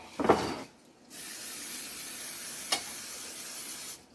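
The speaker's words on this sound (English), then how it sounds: "we're going to go ahead and spray our pan" A short burst of spray, then a long steady hiss of aerosol cooking spray onto a pan, with a faint click partway through before it cuts off.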